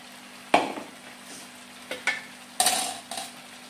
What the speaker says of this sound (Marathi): तर आपण हे मंचुरियन मिक्स करून घेऊ।